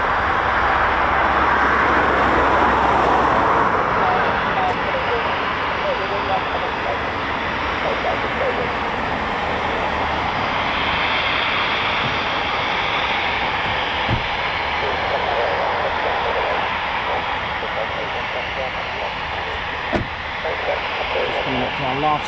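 Eurofighter Typhoon FGR4 jets roaring broadly at a distance as they approach an RAF station, a steady wide rumble building slightly, with a person talking nearby throughout.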